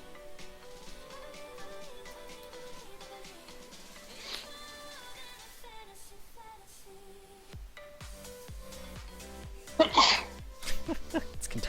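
A single sharp sneeze bursts out near the end, loud against a quiet background with faint beeping tones and scattered clicks in a room.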